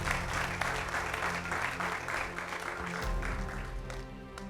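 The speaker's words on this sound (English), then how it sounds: "a round of applause for yourself." Audience applause fills a hall at a state school quiz competition semi-final, a sustained patter of clapping from many hands that swells and gradually thins out toward the end.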